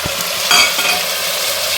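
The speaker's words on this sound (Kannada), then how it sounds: "ಮೂರು ಟೊಮೆಟೊ ಹಚ್ಕೊಂಡಿದ್ನಲ್ಲ ಅದನ್ನು ಕೂಡ ಅದು ರಸ ಹೋಗೋವರೆಗೂ ಫ್ರೈ ಮಾಡಬೇಕು" Tomatoes fry in oil and ghee for mint rice, giving a steady, loud close sizzle with a brief stirring scrape partway through.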